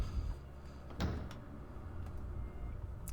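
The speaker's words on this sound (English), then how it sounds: "You open the door with the spider key." In the RuneScape 3 video game, a door is opened with a spider key. A single short creak and thud comes about a second in, set against a low, steady ambient hum.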